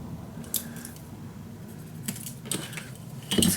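Scissors snip through decoration chipboard for a scrapbook album, a few sharp crunchy cuts spaced apart with a louder burst near the end, close and fairly quiet, no talking.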